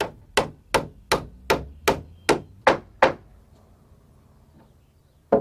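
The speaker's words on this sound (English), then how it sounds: "attach it with 16-penny casing nails and hammer very carefully" Hammer strikes driving 16-penny casing nails into redwood deck boards on a deck build, eight sharp, evenly spaced close blows in a steady rhythm, then a pause and one more hit.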